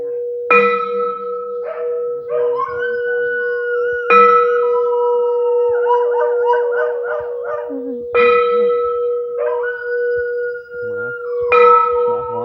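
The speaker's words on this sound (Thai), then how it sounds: "หมาหอน" A dog howls in long, wavering cries amid a sequence of loud, ringing bell or chime tones that strike four times and sustain between strikes, with no talk.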